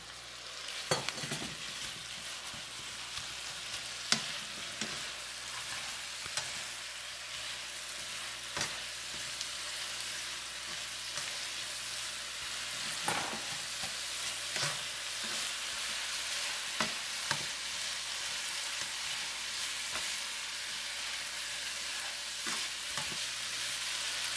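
Spicy pork belly fries and is stirred in a pan, a constant sizzle broken by repeated sharp scrapes and clacks of the utensil, close and alone.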